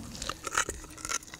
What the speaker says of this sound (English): Listen to that crunching!